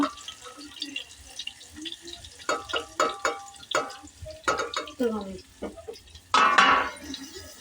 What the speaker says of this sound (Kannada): ಚಿಕ್ಕದಾಗಿ ಮಸಾಲೆ ಹಾಕಿ ಎಲ್ಲ ಮಿಕ್ಸ್ ಮಾಡ್ಕೋಬೇಕು ರೀ ಮಸಾಲೆ ಎಲ್ಲ